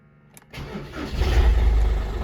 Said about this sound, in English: You can hear the pump. It needs to build up pressure before it can start.